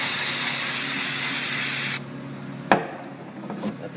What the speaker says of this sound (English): Spray it again from the back side.